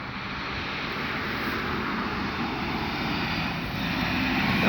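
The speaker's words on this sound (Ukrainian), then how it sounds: "Їде вона в цій маршрутці" A minibus on a Ukrainian route to Vinnytsia pulling away, a steady broadband engine and road rumble that swells slightly toward the end with no talk.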